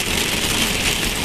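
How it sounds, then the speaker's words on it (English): Steady rain falls during a thunderstorm, a dense, even hiss heard from inside a car, loud and unbroken with no talking. "Here comes the rain again."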